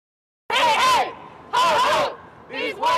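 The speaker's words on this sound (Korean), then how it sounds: "사건 현장 앞에선 증오 범죄를 당장 멈추라는 함성이 울려 퍼졌습니다" Protest crowd outside a hate-crime scene shouting in unison, loud rhythmic chanted calls in repeated bursts, near and forceful, with brief lulls between phrases.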